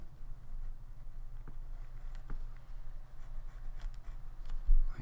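A pencil traces along dashed lines on paper, giving a soft, continuous close-up scratching that runs steadily with small irregular strokes throughout.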